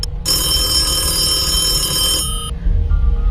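A loud telephone bell rings continuously for about two seconds, then cuts off into a low background hum.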